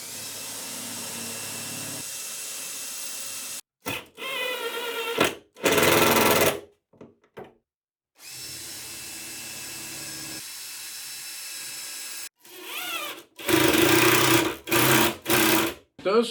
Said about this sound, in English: I'm actually going to screw these together through this face frame